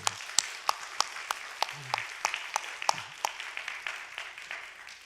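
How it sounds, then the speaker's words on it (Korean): Congregation applauding in a church after a children's Sunday school choir sings, a steady crowd of claps with sharper individual hand claps standing out, moderately near, with a little murmured talk underneath. "우리 박수 한번 주지요."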